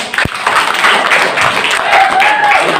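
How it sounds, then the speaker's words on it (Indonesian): Applause from the audience at a candidates' vision and mission presentation for the OPPNQ chairmanship, a lively broadband patter of hands filling the room steadily, opening with a single sharp tap. "Tepuk tangan yang meriah."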